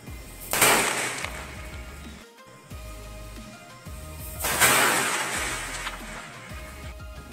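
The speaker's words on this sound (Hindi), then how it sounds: "अब इसका मुकाबला करते हैं इस बिजली छोटे से बिजली बॉम्ब से।" A small bijli bomb firecracker goes off outdoors in two loud, sharp bursts several seconds apart, each with a crackling, hissing tail that fades before the next; no one speaks.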